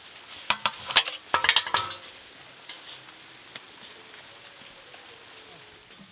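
Cooked hilsa paturi wrapped in banana leaf is tipped out of a pan in a home kitchen, with a quick burst of clattering utensil knocks, then a faint sizzle and scattered small taps.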